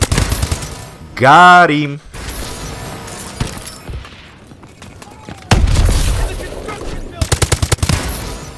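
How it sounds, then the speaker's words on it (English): Gunfire in Advanced Warfare, a multiplayer team deathmatch on the Skyrise map: loud bursts of automatic fire and sharp shots, heaviest near the end, with a voice speaking over the action. "we're getting shot"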